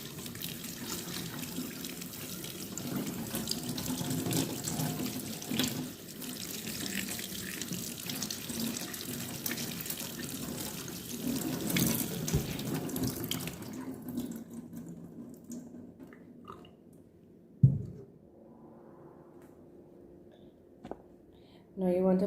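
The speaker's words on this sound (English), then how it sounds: "I'm just washing out some of the excess salt off of it" Tap water runs steadily into a kitchen sink while saltfish is rinsed of excess salt, a continuous splashing stream that stops partway through, followed by a few handling knocks and clatters.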